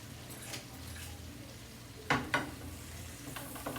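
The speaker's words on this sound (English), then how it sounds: "Let them saute a little bit." Mushrooms sautéing in a pan for steak dinner, a soft steady sizzle with a couple of sharp stirring clacks midway and faint utensil scrapes.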